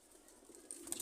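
Soft cooing from a female pigeon in a loft in Multan, faint and low, with a few brief higher chirps near the end.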